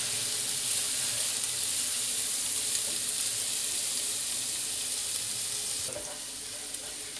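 Garlic frying in a pan before chicken is added, a steady broadband sizzle held at even level throughout, dropping slightly near the end with a few faint stirring clicks.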